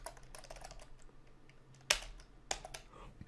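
Typing on a computer keyboard during a game-programming session: soft, quiet key clicks in irregular bursts, with a couple of sharper, louder keystrokes near the end, close and without speech.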